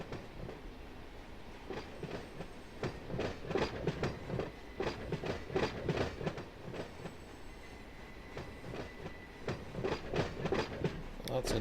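A train rolls along in the Run8 simulator with steady clickety-clack of wheels over rail joints and occasional faint wheel squeal, a continuous moderate rumble throughout, with a voice talking over it.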